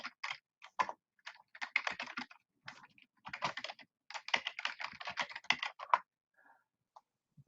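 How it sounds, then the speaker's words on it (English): Quick typing on a computer keyboard while entering an email address: bursts of close, crisp key clicks in uneven runs with short pauses between them, clear against a silent background and with no voices. "Let me see if I can type it in."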